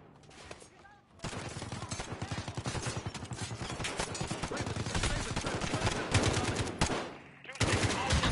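Rapid, loud bursts of automatic gunfire in the Modern Warfare video game, sustained for several seconds with dense repeated shots, briefly dropping off near the end before firing resumes.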